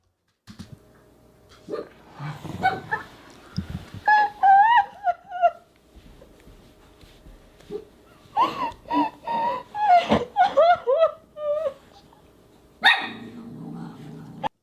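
A dog barks in irregular bursts of sharp, fairly close barks mixed with whimpers and low growls, with quiet pauses between the outbursts.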